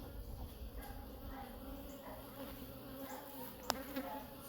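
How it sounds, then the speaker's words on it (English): Honey bees buzz around an open hive during a hive split, a faint continuous drone with a soft background hum and no speech. "So these bees are coming over here."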